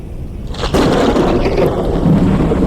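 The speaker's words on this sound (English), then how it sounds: "Man, the storm is bad." Rumbling thunder and steady heavy rain in a storm in the video game Forever Skies, starting quieter and swelling into a loud, continuous roar after a sharp crack near the start.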